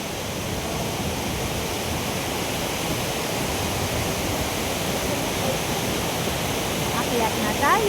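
A waterfall at Shifen, Taiwan rushes in a steady, dense roar that fills the whole scene from start to finish, loud and continuous.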